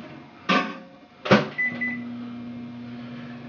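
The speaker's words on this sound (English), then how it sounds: "I'm going to throw this in the microwave to melt it." A microwave oven melting half a stick of butter in a kitchen: two sharp thuds of the door and buttons, then a steady low electric hum settling in as it starts running.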